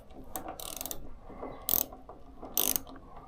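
A ratchet wrench clicks while turning a 13mm bolt during fuel tank removal on a BMW R1100GS motorcycle. Close, crisp ratcheting comes in short bursts, with a few sharper metallic clicks standing out.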